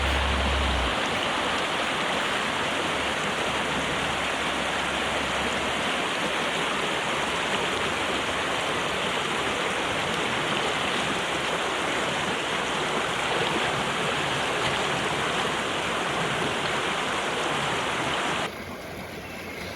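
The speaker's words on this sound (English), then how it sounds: "we've got this river here that's coming out to sea" A river in Alaska flowing out to sea, a continuous broad wash of running water heard close and steady for the whole stretch, with a faint low rumble early on and no talk.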